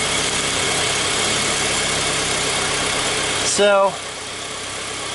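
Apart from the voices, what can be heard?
2003 Honda Civic alternator spinning with engine running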